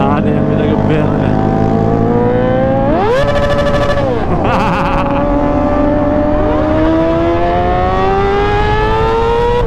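A Kawasaki ZX25R motorcycle fitted with a LeoVince LV10 underbelly exhaust is revved on the road, its loud, buzzing engine note climbing steeply in pitch, dropping back, then rising steadily again.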